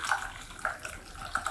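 Cocktail poured through the built-in strainer of a shaker into a glass, a soft continuous liquid trickle with faint splashy bursts, close and quiet, without talk.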